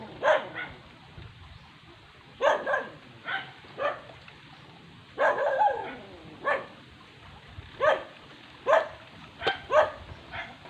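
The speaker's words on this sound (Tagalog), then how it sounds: "Yun naman yung aso namin, si Luna" A pet dog barks in scattered single and double woofs, some close together, with quiet gaps between them and no talking over them.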